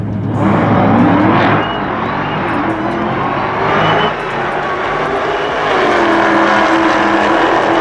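A 2018 Dodge Demon with a supercharged V8 accelerates hard, its loud roar surging and shifting in waves with a supercharger whine, close by with no talk.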